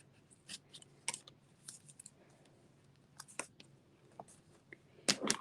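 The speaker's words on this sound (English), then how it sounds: "I'm just going to go and tear and tape this in." Paper is torn and taped while assembling a gift pack: sharp, faint crinkles and rips scattered across quiet gaps, with a louder burst of tearing at the end, no voices.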